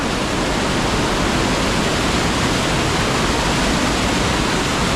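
Spring water rushes out of the ground near Jajce, Bosnia, a loud, dense, continuous roar like a small waterfall with no pauses.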